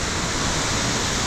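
Spring water at a resort rushes in a constant, full broadband hiss, close and loud, with no voices or breaks over its brief span.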